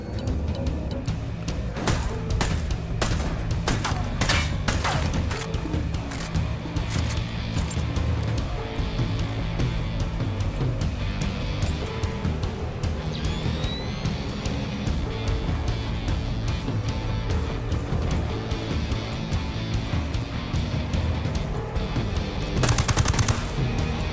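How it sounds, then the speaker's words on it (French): Gunfire in the video game Ghost Recon Wildlands, dense sustained automatic bursts and rapid shots rattle on and on, loud and close, with a sharper crack of fire near the end. "J'ouvre le feu!"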